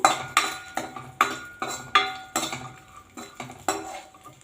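Raisins fried in ghee and stirred in a metal pan, with a series of sharp clinking spoon strikes against the vessel in an uneven rhythm, close and fairly loud, over a light sizzle.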